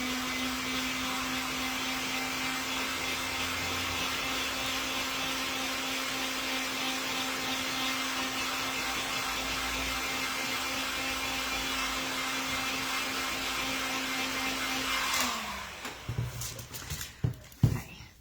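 A hair dryer blows steadily on a decoupaged witch hat, a loud continuous whine with a constant hum, then switches off near the end, followed by a few clattering handling knocks.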